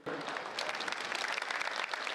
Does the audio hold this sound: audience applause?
yes